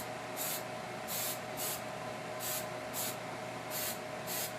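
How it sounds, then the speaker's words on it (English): Super hold hairspray hisses from an aerosol can onto a fallen tree branch in repeated short bursts, about six sprays in a steady rhythm, close and fairly loud over a constant background hum. "take the super hold hairspray and spray just the body of the tree"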